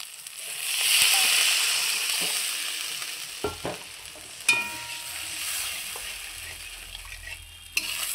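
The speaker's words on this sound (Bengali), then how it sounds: "এবার আমি গ্রেভির জন্য দিয়ে দিচ্ছি জল।" Water goes into hot fried masala in a pan to make gravy for a puti fish tel jhal. A hissing sizzle swells, then fades, with a few sharp clanks and bubbling near the end, close and unaccompanied by talk.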